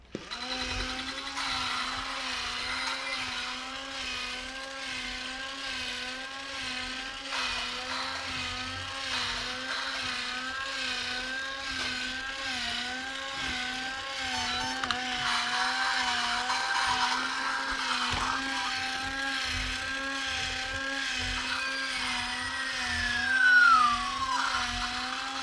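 A Chap Mei Exobot 1:18 scale toy robot rolls on its motorized wheels with a steady whining motor buzz that wavers in pitch throughout, close and continuous.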